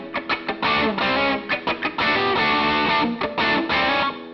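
Electric guitar plays the main riff of a song with a distorted tone, choppy strummed chords alternating with sustained ringing stretches, loud and alone with no talk.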